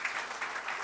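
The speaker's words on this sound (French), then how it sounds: "Merci de les applaudir" Audience applause at a conference welcoming speakers onto a stage, a brief dense wash of clapping throughout, moderately loud.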